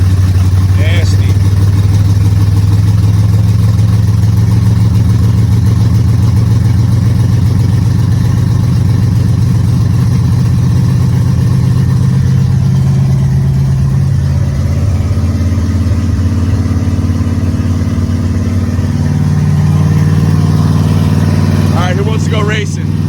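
A Ford Galaxie muscle car with headers, full 3-inch exhaust and Flowmaster Super 10 mufflers idles with a deep, loud, lumpy rumble that swells slightly midway, heard close and alone.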